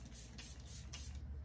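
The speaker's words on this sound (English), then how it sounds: "It says you can use it as a primer or as a setting spray." Cover FX Rose Quartz setting spray, a crystal-infused elixir mist, is spritzed in a few short, airy hissing bursts. The bursts are faint and close, with no talking.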